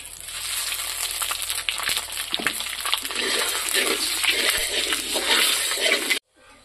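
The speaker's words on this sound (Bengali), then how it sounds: "তেল গরম হয়ে গেছে, আমি তেজপাতা শুকনো লঙ্কা দিয়ে দিলাম। এখন দেব পাঁচফোড়ন" Bay leaves and dried red chillies sizzle steadily in hot oil in a home kitchen, giving a dense, close crackling hiss with small pops and stirring scrapes. The sound cuts off abruptly just before the end.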